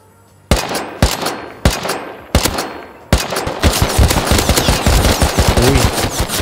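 Rapid gunfire in the survival game Rust: several sharp, separated shots ring out first, then a fast, continuous burst of loud automatic fire close by.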